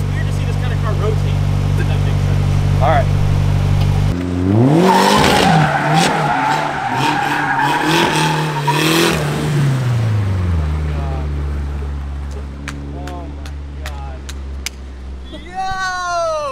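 A rear-wheel-drive Honda Civic drifts, its engine droning at idle before surging loudly as the tires squeal and skid through a turn, then easing off as the revs fall; voices are heard talking and exclaiming near the end.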